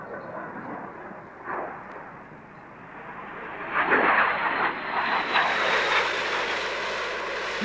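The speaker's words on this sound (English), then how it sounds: "it was left to the Harrier to bring down the curtain on what had been an excellent show" A Harrier jet closing an airshow display in 1999, its engine roar swelling and fading in surges, growing louder and brighter toward the end with a rising whine.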